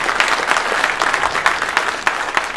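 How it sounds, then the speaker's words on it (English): Steady applause from a convention audience, many hands clapping continuously with a few sharper claps standing out, fairly close and loud. "I get a lot of applause, thank you very much for that"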